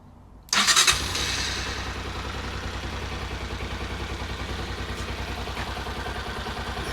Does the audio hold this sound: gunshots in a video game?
no